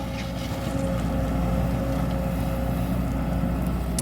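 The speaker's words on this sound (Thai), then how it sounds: "เสียงเครื่องนิ่มมากเลยครับ" A Sumitomo SH210 excavator engine runs steadily and smoothly, a continuous low rumble with a faint whine, close by and unchanging, with no talking.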